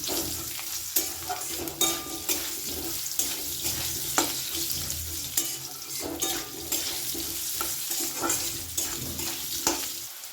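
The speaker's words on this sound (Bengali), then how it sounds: "আলুগুলো একটু লাল লাল করে ভেজে নেবো" Potatoes frying in a pan for a bitter gourd chorchori: a steady close sizzle with repeated stirring scrapes and light clinks, without talk.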